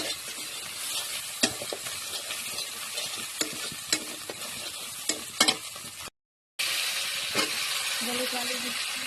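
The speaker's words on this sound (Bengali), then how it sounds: "আলুটা দেওয়া হয়ে যাচ্ছে, এবারে আলুটাকে এবার ভালো করে ভেজে নেব।" Potatoes with turmeric frying in a pan, a constant close sizzle broken by sharp spoon clicks and stirring scrapes, cutting out briefly before the hiss resumes louder.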